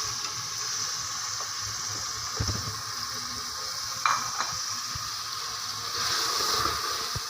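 Chopped cabbage, about a kilo, is stirred into meat frying in a pot, giving a steady close sizzle with a few scraping stirs and clinks.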